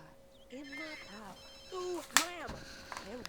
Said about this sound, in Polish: No się odbierz ten telefon, bo on dzwoni od jakiejś, nie wiem, 11.